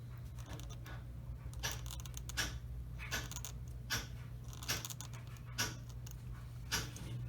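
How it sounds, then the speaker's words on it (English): Paint scraped off a part from an Airfix 1/72 P-51D Mustang plastic model kit, a series of short rasping strokes in an irregular rhythm, close and fairly quiet over a low steady hum. "I like to scrape the paint away"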